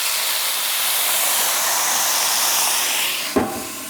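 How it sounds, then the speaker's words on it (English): Brussels sprouts steaming under a lid on a hot Blackstone griddle after water is added, giving a loud, continuous hiss that ends with a sharp clunk near the close. "and then I'm going to close the lid and let it steam."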